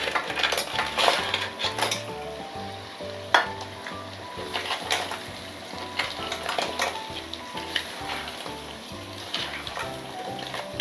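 Crab pieces frying in a pan once the water has cooked off, for a crab curry and fry: a dense, continuous sizzle close by with scraping and clatter from stirring throughout and no one talking.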